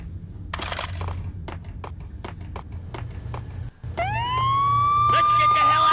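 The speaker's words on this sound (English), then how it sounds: "I'm allergic to sirens!" Police sirens wail in the Max Payne video game, rising into a loud steady siren over a low rumble after a burst of sharp gunshot-like hits and scattered impacts.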